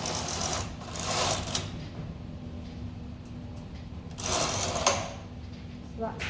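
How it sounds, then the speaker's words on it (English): Punch card knitting machine carriage pushed across the bed to collect the pattern, two bursts of rattling mechanical clatter with a steady hum between them. "I've got to run the carriage across to collect up this pattern on these little pattern wheels at the back here."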